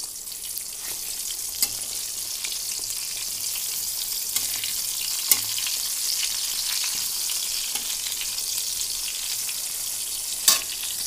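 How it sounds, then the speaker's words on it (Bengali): Eggplant slices fry in a pan with a continuous soft sizzle and crackle, punctuated by a few sharp pops and occasional stirring clicks, with no voices. "আর এদিকে বেগুনটা ভাজা হচ্ছে"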